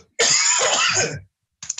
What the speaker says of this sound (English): Look, I'm going to cough.